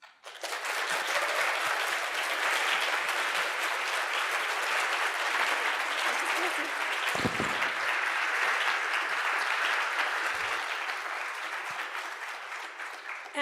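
A large conference audience at an LSST plenary session applauds in a long, sustained round of dense clapping that holds steady for over ten seconds before easing slightly.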